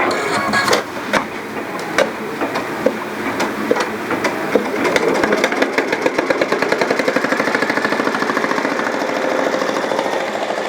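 A sewing machine stitches the window placement on a bandage, its needle running in a fast, steady mechanical patter that becomes a dense, even rhythm through the second half, close and fairly loud with no talking.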